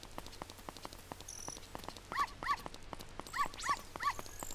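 A small white dog in Zelda Ocarina of Time 3D gives a few short, high yips and whimpers in quick pairs over a soft patter of rain-like ticking in the game's background.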